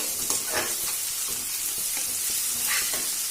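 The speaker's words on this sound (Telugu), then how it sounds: "క్యాప్సికమ్, క్యారెట్, పుదీనా అండి, ఇవన్నీ వేసుకొని బాగా ఫ్రై చేసుకోవాలండి." Capsicum, carrot and mint frying over high heat for chicken fried rice, a steady loud sizzle with scraping stirs of a spatula throughout.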